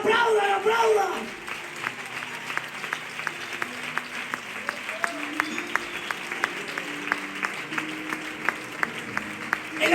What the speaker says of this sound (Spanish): ¡Aplaudan, aplaudan, aplaudan!